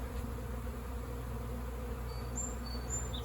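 A swarm of bees makes a dense, steady buzzing drone throughout, close and continuous, with a few individual bees whining past, and no talking.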